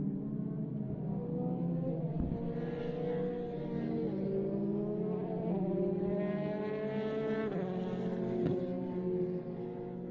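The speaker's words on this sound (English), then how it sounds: "the drivers are now setting off for the formation lap to put some heat into their tyres, into their brakes" D2 Formula single-seater race cars, F3 Dallaras, pulling away together on a formation lap at Grobnik, a steady layered drone of several engines with rising and falling harmonic tones, fairly loud and continuous.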